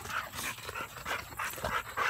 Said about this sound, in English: She's one of my American Staffordshire bullies right here.